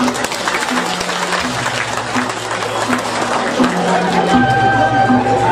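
Sustained applause from a crowd fills the space, dense and steady, with a low droning tone running beneath it.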